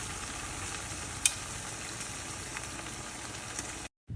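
Prawns and pasta sauté for aglio olio in a pan, giving a continuous close sizzle with light stirring and a single sharp clink before the sound cuts off near the end.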